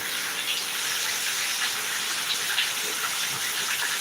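Heavy summer rain pouring down in Trivandrum, a steady, dense broadband hiss with no pauses, close and loud throughout with no voices.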